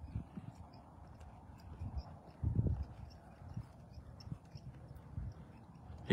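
An 8-year-old 15-1 gelding named Comanche, a trail-broke horse, clip-clops faintly with soft, irregular hoof falls, a slightly louder cluster midway, over quiet outdoor background.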